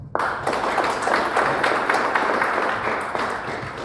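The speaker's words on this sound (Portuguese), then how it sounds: "Quero receber Artemus com uma salva de palmas." An audience at a corporate team-development talk applauds to welcome a speaker, clapping starting abruptly and continuing as a steady, fairly close burst for a few seconds without talking.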